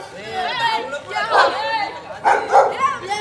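A dog yips and barks in short, high bursts during a village pilgrimage walk, mixed with nearby people talking and chattering over it.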